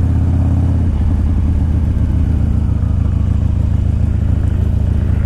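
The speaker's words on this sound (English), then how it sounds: "And it's a good running bike." 2001 Harley-Davidson Dyna Wide Glide motorcycle engine running at a loud, steady idle, a deep lumpy rumble with a slight shift in pitch near the start.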